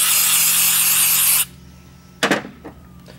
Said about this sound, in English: clean the plastic gauge off of each journal and off of each bearing cap with a little bit of brake cleaning.